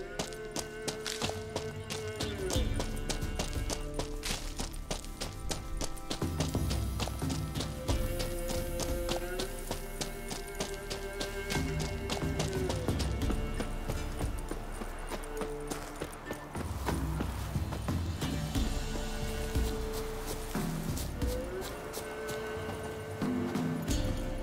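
Roach, the horse in The Witcher 3, gallops in a steady, rhythmic clip-clop of hooves that carries on throughout, with game music playing underneath.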